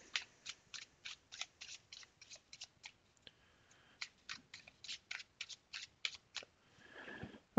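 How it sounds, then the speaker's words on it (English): Steady rhythmic riffling of tarot cards being shuffled overhand, soft papery slaps repeating in quick bursts with a brief pause midway, close and fairly quiet. "overhand, they shuffle nicely enough"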